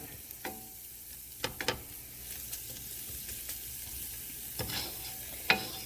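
Garlic cooking in a pan for a Guinness stew gives a steady low sizzle, broken by a few sharp clinks and scrapes of stirring utensils against the pan, with no voices.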